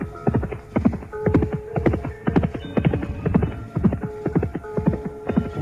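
Horse galloping as a radio drama sound effect, a rider gripping the reins hard, hooves pounding in a steady fast rhythm throughout, close and clear, with no voices.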